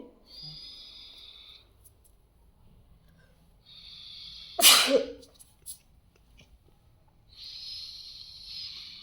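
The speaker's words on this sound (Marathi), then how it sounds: "टायगरला सर्दी झाली वाटतं" A single sharp sneeze bursts out midway, loud and close, between stretches of a steady high-pitched hiss.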